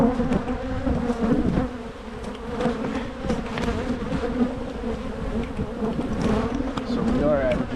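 Honey bees swarm and buzz steadily around an open hive during a January colony inspection, a dense continuous drone filling the whole stretch with faint background voices now and then.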